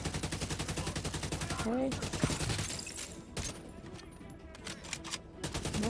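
Gunfire in The Division 2 aimed at a wall panel: steady rapid automatic bursts, loud and close, pause midway under brief talk and scattered shots, then resume at the end.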